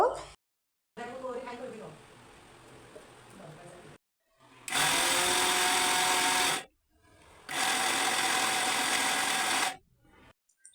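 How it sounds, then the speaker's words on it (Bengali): Two loud, steady bursts of a mixer grinder whirring as it grinds grains into powder, each lasting about two seconds with a short pause between, after a stretch of quieter background noise. "আমি একটা মিক্সার গ্রাইন্ডারে দিয়ে এটাকে গুঁড়া করে নিব"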